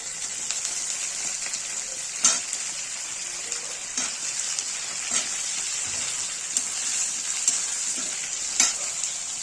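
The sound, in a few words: potatoes stirred and frying in pan for tangra fish curry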